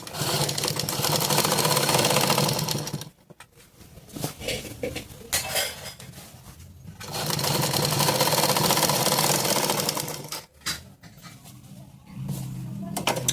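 A sewing machine, fitted with a new needle to stop the thread from breaking, stitches in two long loud whirring bursts separated by a quieter stretch of faint rattling, ending as it starts up again.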